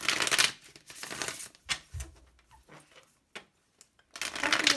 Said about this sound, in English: let's give it a last shuffle for my dear pal 3